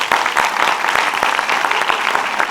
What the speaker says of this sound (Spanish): Si creen que va a estar mejor, aplaudan en este momento.